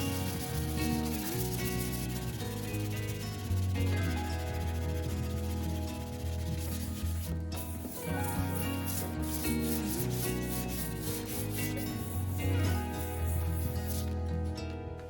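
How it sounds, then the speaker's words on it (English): 220-grit sandpaper scuffs across a wooden nightstand by hand in steady back-and-forth rubbing strokes, close and continuous, with no voices. "I'm going to scuff sand the entire piece using 220 grit sandpaper."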